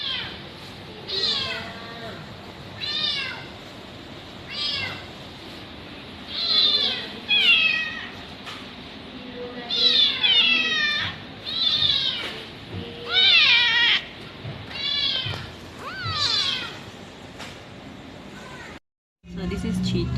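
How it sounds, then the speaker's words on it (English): A stray kitten with a virus, found the night before, meows over and over in a steady series of about a dozen high, rising-falling cries with short pauses between them, close to the microphone. "So this is Cheeto, the kitten that my dad found last night."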